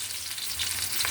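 Chopped onion sizzling in hot oil in a pan for a clam sauté, a dense, continuous frying hiss that swells slightly toward the end, close and alone without speech.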